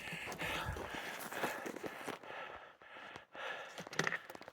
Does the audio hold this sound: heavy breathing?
yes